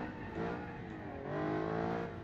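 A GT3 race car accelerates on a track, its engine note rising steadily as a dense, continuous roar with a faint surge midway, heard alone without voices.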